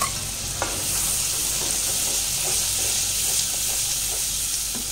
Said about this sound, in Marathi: आता आपण त्याच्यात वाटण केलेलं आहे ते टाकू